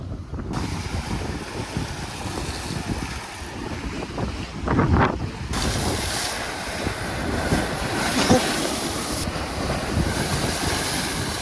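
Wind buffets the microphone while waves wash steadily against a seaside pier at Daugavgrīva, Latvia, a continuous rushing roar with gusts swelling midway and no talking.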